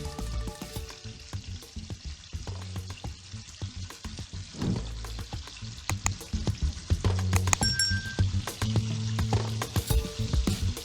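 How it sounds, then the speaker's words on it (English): Fish sizzles and crackles in hot oil in a pot, close by, with occasional clinks and stirring noises as the frying grows louder. "Add oil to the pot and start frying the fish."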